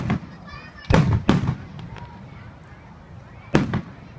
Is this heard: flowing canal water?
no